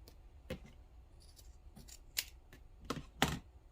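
Scissors snip through felt-like craft pieces for no-sew Valentine gnomes, a handful of sharp, close cuts spaced irregularly with quiet pauses between, no talking.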